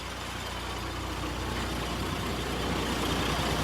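A vehicle, likely a truck or bus, pulls up and stops at a roadside while someone hitchhikes in Meghalaya, a loud, continuous, close engine rumble and road noise throughout.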